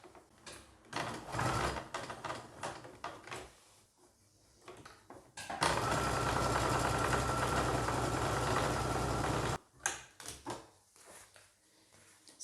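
A sewing machine runs steadily as it stitches around the edges of a cotton bib panel cut from old jeans, a continuous mechanical whir lasting about four seconds between bursts of fabric handling and clicks.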